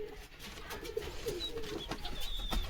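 A young black pigeon chick, a Madras or Andhra type kept by a fancier, coos softly in low, repeated murmurs, with steady background noise and a few faint high chirps.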